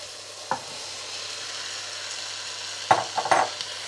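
Chickpeas and sweet paprika stirred in hot oil give a soft, steady sizzle under a few brief scraping knocks of a utensil against the pan, fairly quiet and without voices.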